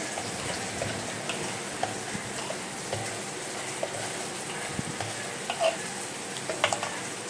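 Khichuri being stirred in a cooking pot, a soft steady sizzle with scattered light scraping and clicks of the spoon against the pot, faint and close, with no talking.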